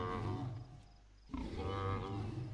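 The Ankylosaurus friendship call from The Isle video game sounds as two deep, cow-like lowing moos, loud and close, separated by a brief quieter gap.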